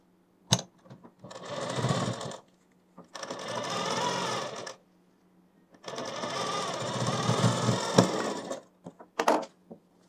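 A sewing machine stitches a seam on a kurti in three long bursts, loud and close, with short pauses and small clicks between runs and no talking.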